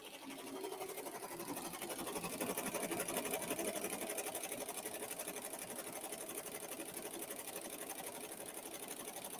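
An embroidery machine runs at 700 RPM, producing a fast, even, continuous mechanical chatter that stays close and steady throughout.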